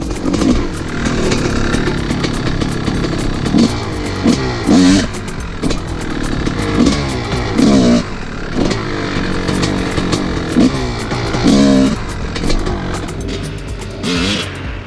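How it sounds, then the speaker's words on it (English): A dirt bike engine revving in uneven bursts during clutch pop wheelie practice on a balding rear tire, loud and close with rising and falling throttle blips throughout. "it's just spinning when I'm doing my clutch pops"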